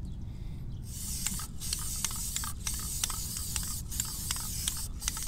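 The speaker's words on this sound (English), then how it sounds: "good ventilation when using our aerosol paint, starting with the SCM self-etching primer first, and this is a black primer" An aerosol can sprays SCM black self-etching primer onto the metal mesh of an NZXT H440 front panel grill in a series of short hissing bursts separated by brief pauses, close and without speech.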